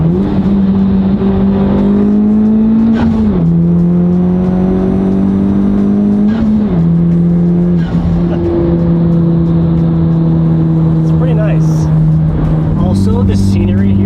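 A Nissan Z pulls hard in fourth gear on a scenic road, its engine note climbing steadily, dipping briefly at each shift and climbing again, loud and close, with faint talk in the background.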